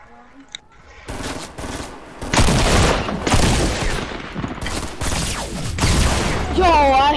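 Double-barrel shotgun fire in a first-person shooter game, dense bursts of loud gunfire and booms over several seconds, with players talking over the action.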